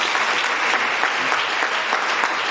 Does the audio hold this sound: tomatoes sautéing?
no